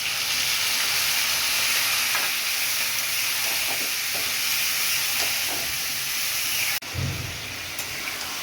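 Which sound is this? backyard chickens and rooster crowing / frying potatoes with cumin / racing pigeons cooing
frying potatoes with cumin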